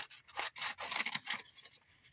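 Scissors snip through paper in a quick run of crisp cuts, several short rasping strokes close by, with no talk, while trimming a paper craft piece shorter.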